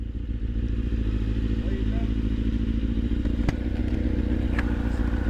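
Motorcycle engine idling with a steady low rumble throughout, close and loud, with a faint clunk as it drops into first gear; voices talk over it.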